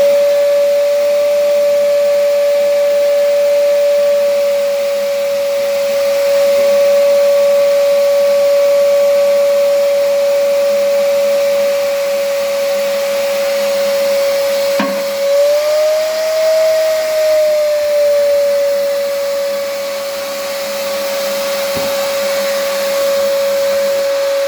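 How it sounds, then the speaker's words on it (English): Wet vacuum sucking water out of a toilet bowl during a toilet replacement, a steady loud whining drone that holds for the whole stretch with a brief pitch wobble midway and no talk. "we're going to vacuum out all the water"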